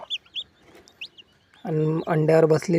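A broody hen with newly hatched chicks: a few thin high cheeps come first, then the hen breaks into loud, close, repeated clucking calls that carry to the end.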